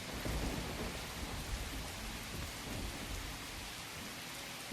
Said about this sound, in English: I love the sound of rain. I love the sound of thunder.